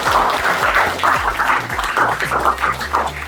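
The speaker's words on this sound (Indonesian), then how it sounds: "Tepuk tangan dong." Applause from a classroom audience during a teaching practice session, a steady wash of many hands clapping at moderate loudness for the whole stretch, with some low hum underneath.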